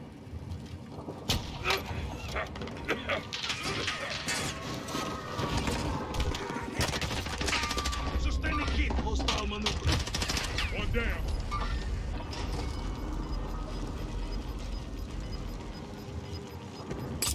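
Dense, continuous gunfire from Warzone battle-royale combat on Rebirth Island, with rapid bursts and overlapping shots sounding near and far, layered over mechanical clatter and game sound effects throughout.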